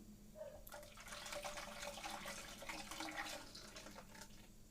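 Watermelon puree pours into a gelatin mixture in a kitchen, a soft, continuous liquid splashing and gurgling that stays faint and steady for several seconds with no voices.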